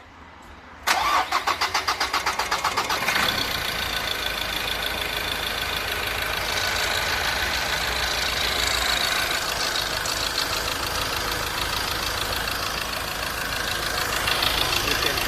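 A Ford Ranger engine in a repair garage during EGR valve work cranks briefly, catches and settles into a loud steady idle with a rhythmic ticking knock running throughout.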